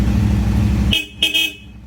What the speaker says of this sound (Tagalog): Check tayo ng Seger horn.